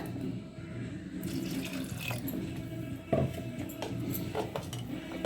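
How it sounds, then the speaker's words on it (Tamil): Water poured into leftover cooked rice dosa batter in a home kitchen: a soft, steady trickle with faint clinks of utensils and dishes, quiet and close, with no talk. "இன்னும் கொஞ்சம் நம்ம தண்ணி ஊற்றிக்கலாங்க"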